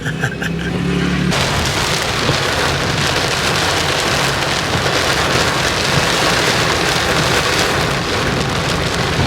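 Heavy, intense rain pours down in a dense, loud, continuous roar of drops beating on surfaces close by, steady without a break after a brief quieter opening moment, with no voices.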